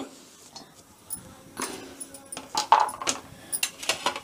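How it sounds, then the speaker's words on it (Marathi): Coconut pieces roast in an iron kadhai over a gas flame, with a spoon scraping and clinking against the pan in uneven taps, close and fairly light, while someone talks. "आता हे मी खोबरं भाजून घेते."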